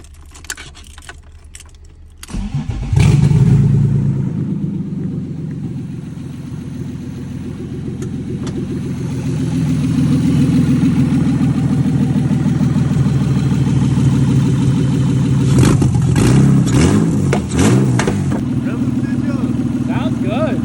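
A car engine of unknown make, about ten years old, cranks and catches after keys jangle, then idles roughly and revs up loudly close by, with voices talking over it.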